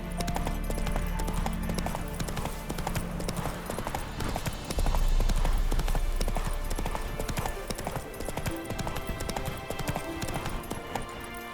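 Horse hooves clip-clop steadily across the ground in The Witcher 3, a continuous rhythmic trot layered over dense game music and ambience, with a brief louder surge midway.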